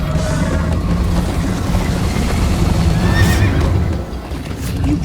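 A horse whinnies loudly over a steady rumble of hooves and commotion in Minecraft: Story Mode, with a bright, high neigh rising near the middle.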